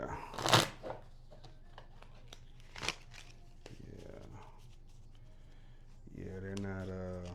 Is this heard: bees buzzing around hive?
no